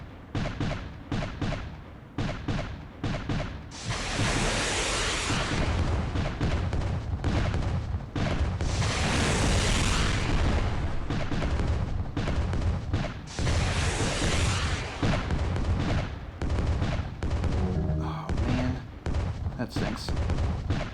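Heavy gunfire and booming explosions from the Atlas Warship video game, rapid bursts of shots broken by long rumbling blasts, loud and continuous, with a brief spoken comment partway through.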